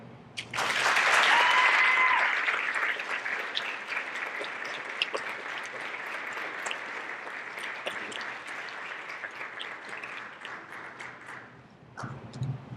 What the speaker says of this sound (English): one more applause for everybody